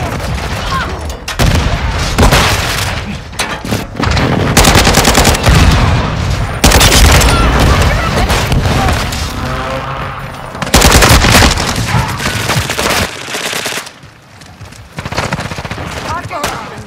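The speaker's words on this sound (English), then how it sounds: "Friendly precision airstrike inbound." A precision airstrike and gunfire in the game Call of Duty: Modern Warfare II, with dense, loud bursts of automatic fire and heavy booming blasts repeating almost continuously, separated by short lulls.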